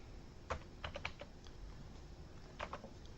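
A zip code keyed into a search field on a computer keyboard: a handful of close, light keystrokes in two short bursts over a steady room hum, with no one speaking.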